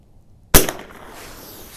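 A single sharp crack from an 1896 Schmidt Rubin .22 short biathlon rifle firing a CCI round at a range, loud and close, breaking out of silence and trailing off in a short fading tail.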